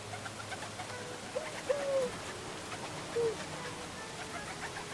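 A pigeon gives a few soft, short coos, fairly faint against a steady outdoor background hum.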